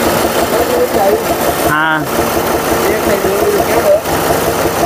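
A low-cost tractor engine idles steadily and loudly throughout, with a brief voice cutting in partway.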